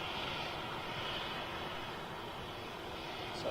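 A KLM airliner taxis with its jet engines running, a steady, moderately distant rumble and whine that holds even throughout.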